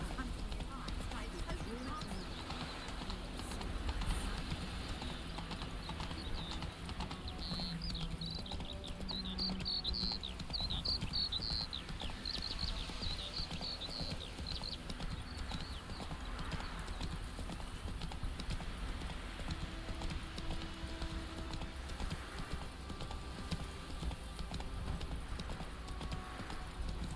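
Roach, a horse in The Witcher 3 video game, gallops in a steady, continuous clip-clop of hooves that runs throughout over a low ambient game background, with faint voices now and then.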